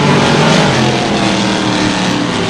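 Sportsman modified race cars at speed on an oval track, a loud continuous engine roar filling the whole stretch with no break.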